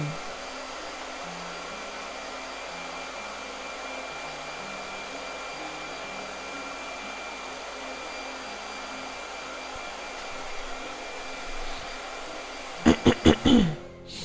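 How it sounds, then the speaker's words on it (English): A blow dryer runs steadily to dry paint on paper, a constant whooshing drone that holds for about thirteen seconds before a few short bursts and knocks at the end. "Blow dryer."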